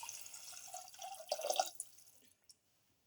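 Two cups of water poured into a pressure cooker holding a Japanese quail and pepper mixture, a close splashing pour lasting about two seconds before stopping, followed by a single faint drip.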